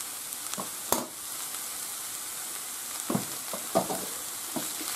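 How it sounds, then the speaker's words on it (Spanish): Mushrooms sauté in a frying pan with a soft, steady sizzle, broken by a few sharp clicks and scrapes of stirring; the sound is close and fairly quiet, with no voices. "Ya lo hemos rehogado y ahora echamos el champiñón y un poquito de sal."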